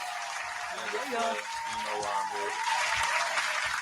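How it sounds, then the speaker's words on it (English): An audience applauds at an introduction during a live talk show, the clapping steady and moderately loud under voices and tonal sounds throughout. "Give him a round of applause."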